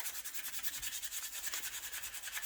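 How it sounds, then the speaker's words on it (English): Extremely fine 400 grit sandpaper worked over a hand-carved wooden spoon, a close, steady rasping rub in quick, even back-and-forth strokes, roughly eight per second, with no speech. "use this extremely fine 400 grain sandpaper and see what it does"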